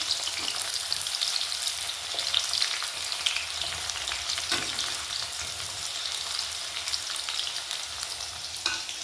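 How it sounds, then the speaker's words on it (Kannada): Onions dropped into hot spattering oil for uppittu, a loud, steady crackling sizzle with bursts of popping and occasional stirring scrapes throughout, with no voices. "ಓಯ್ ಚಟಪಟ ಹಾರೋ ಟೈಮ್ನಲ್ಲಿ ಉಳ್ಳಾಗಡ್ಡಿ ಹಾಕಬೇಕು."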